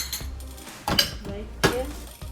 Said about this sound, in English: let's mash these potatoes